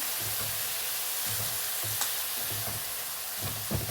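Spice masala sizzles and fries in a pan with a little sugar and water for Bengali chicken ghugni, a steady hiss with intermittent soft stirring scrapes, close and continuous with no talk.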